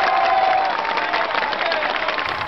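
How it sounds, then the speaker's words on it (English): Crowd at a protest town hall over the Burma emergency clapping and cheering loudly, a dense continuous roar of applause that thins slightly toward the end. "And the crowd went crazy."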